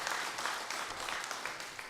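A church congregation at a Father's Day choir service claps for Sunday school, Korean school and youth workers. The short burst of steady, even clapping sounds soft and somewhat distant, with no talking over it.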